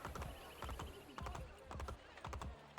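Horse galloping in the Assassin's Creed Brotherhood video game, quick repeated hoofbeats in a steady clip-clop rhythm, close and clear throughout.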